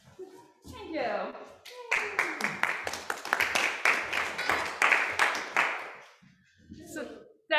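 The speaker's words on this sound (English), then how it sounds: "The ladies go in and they clap. The men go in and they clap." Dancers clap in a run of quick, fairly even handclaps during the Gathering Peascods English country dance at a ball, close and lively, with a voice speaking at the start and end.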